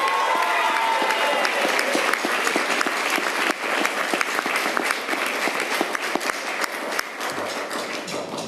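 Audience applause for a school music teacher at a city arts program announcement, a loud, sustained roomful of clapping with sharp individual claps standing out, tapering slightly toward the end.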